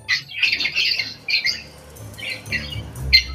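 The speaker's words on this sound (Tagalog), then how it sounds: "ang kanyang alagang lovebirds" Pet lovebirds squawking in a series of shrill, close, high-pitched bursts, alone with no talk, with several quick calls clustered together and a brief pause before more squawks.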